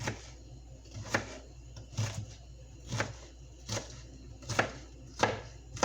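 Vegetables for stewed tomatoes with okra are chopped on a board with a knife, about eight distinct thuds at a steady, unhurried rhythm, close and fairly quiet with no talking.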